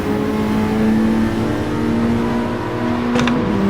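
Race car engine revving under load in Gran Turismo 7, a loud, continuous onboard drone that holds steady and climbs slightly in pitch, with no talk.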